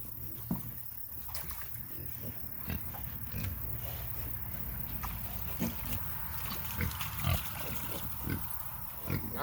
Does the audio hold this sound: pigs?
yes